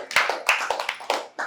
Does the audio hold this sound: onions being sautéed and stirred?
no